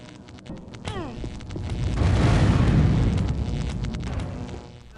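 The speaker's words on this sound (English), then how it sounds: "No armor can save us from the exploding ship after all." A spaceship explodes in a video game with a deep rumbling blast that swells to a loud peak in the middle, then slowly fades, after a brief whooshing sweep at the start.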